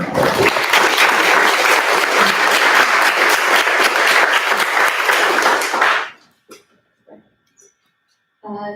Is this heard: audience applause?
yes